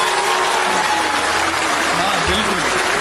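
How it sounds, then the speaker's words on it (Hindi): A poetry gathering's audience breaks into loud, sustained applause, a dense even wash of clapping that fills the whole stretch, with a faint voice or hum running underneath. "जोरदार तालियां।"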